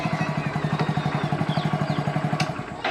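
A motorcycle pulls away in first gear on a smooth surface, its close, loud engine putting out a fast, even thumping pulse throughout.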